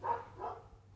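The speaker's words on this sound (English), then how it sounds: "we got a dog chiming in a little bit too." A dog barks twice in quick succession, somewhat distant and faint, during a podcast recording.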